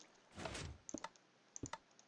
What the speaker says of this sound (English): So you can hear them all clicking.